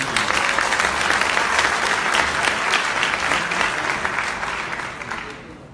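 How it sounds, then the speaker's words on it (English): An audience at a OneCoin event in Lisbon applauding, a dense, loud round of clapping that holds steady and then fades toward the end. "I want you to give them a big round of applause"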